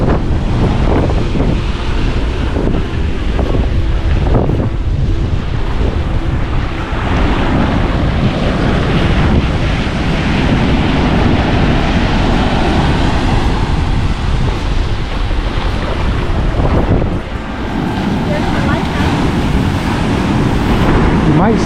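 Ocean surf at Waikiki beach washes in a constant, loud roar, heavily buffeted by wind noise on the microphone, with faint voices now and then under the churning water.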